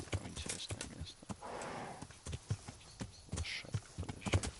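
Horse hooves clip-clop at a steady walking rhythm in the medieval game Kingdom Come, close and clear with a short whinny-like breath partway through and no talk.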